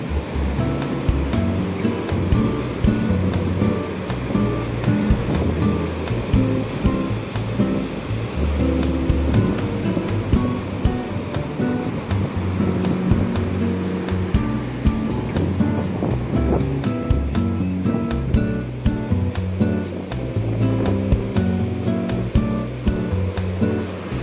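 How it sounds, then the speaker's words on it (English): Ocean surf rolling onto a beach in Ghana, West Africa: a continuous, loud roar of breaking waves with rumbling low swells, heard alone without voices. "You can hear the waves, the sound of the waves."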